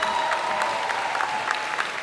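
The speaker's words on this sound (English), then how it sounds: "Big round of applause for the parents and guardians here." High school graduation audience clapping in a large hall, a fairly faint, even round of applause heard from a distance.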